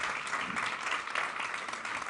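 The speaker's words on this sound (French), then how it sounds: "Est-ce qu'on peut les applaudir?" A church congregation applauds visitors, dense steady clapping from many hands filling the room for the whole stretch without a break.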